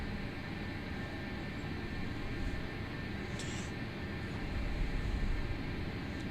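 Jet takeoff roll of a PMDG 737 in Microsoft Flight Simulator 2024, a steady, loud broadband engine roar and rumble that builds slightly toward the end, with no talk over it.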